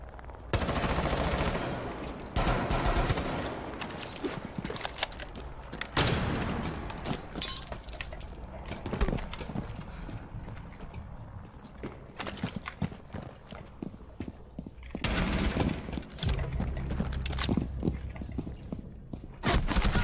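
Rainbow Six Siege ranked-match gunfire: repeated bursts of shots and sharp impacts crackle through a busy, dense in-game soundscape, alternating with clattering footsteps and louder flurries near the start and end.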